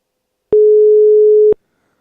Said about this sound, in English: That sounds like a European phone ring